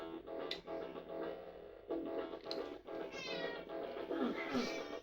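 Cat meowing indoors, a string of drawn-out, insistent meows close to the microphone, with a person talking softly in between.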